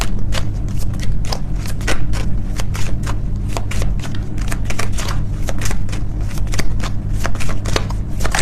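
A deck of angel oracle cards is shuffled close up in a rapid, steady run of crisp riffling flutters, loud and continuous, over a low background hum.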